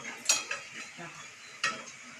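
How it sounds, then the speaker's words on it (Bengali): Food fries with a soft, steady sizzle, broken by a couple of sharp clinks of a utensil against a pan, heard close and fairly quiet. "আর এদিকে তো ভাজাটা হচ্ছে"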